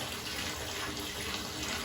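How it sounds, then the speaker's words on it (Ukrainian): Water from a faucet runs into a shower tray installed in a narrow niche and drains away fast, a steady broadband splashing rush heard alone and at even loudness throughout. "Вода дуже швидко убігає."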